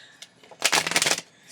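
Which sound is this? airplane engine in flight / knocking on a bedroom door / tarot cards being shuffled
tarot cards being shuffled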